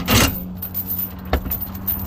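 A metal chain rattles and scrapes as it is pulled out of the spare wheel carrier on a Sunseeker RV by Forest River: a loud jangle at the start, a sharper clank later, then quieter shuffling over a low steady hum.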